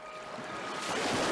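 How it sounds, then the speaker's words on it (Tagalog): Strong sea waves surge in a rising wash of roaring surf mixed with wind, loud and building over a brief stretch, with no voices. "Humampas ang malalakas na alon at may namuong buhawi."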